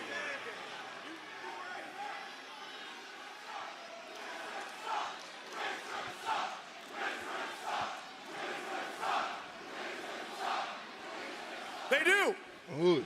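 A wrestling arena crowd roars and chants in swelling waves, distant and full, with a loud spike of cheering near the end; voices talk over it.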